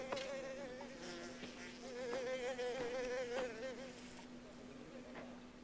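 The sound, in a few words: flies buzzing in Mafia The Old Country video game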